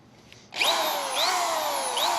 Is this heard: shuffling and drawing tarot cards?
no